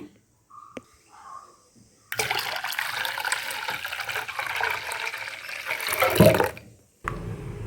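Water poured into ground wheat for a traditional wheat grain juice, a loud, close, rushing stream lasting about five seconds that swells near its end, preceded by faint bumps and followed by a short further splash.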